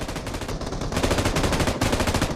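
Rapid automatic gunfire from a video game shooter, loud and continuous bursts of shots with brief pauses, heard alone without talk.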